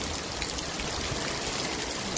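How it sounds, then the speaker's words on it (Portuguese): Heavy rain pouring in Assis, São Paulo, Brazil, a dense, loud and unbroken hiss of falling water with no talking over it. "Olha que chuva forte, gente."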